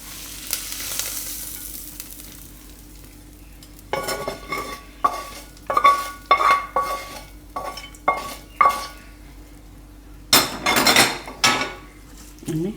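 Hot tempering poured into poha for a yogurt-based dahi poha, followed by a spoon stirring and scraping against the bowl in irregular, fairly close knocks and scrapes, with brief sizzling bursts and no talk.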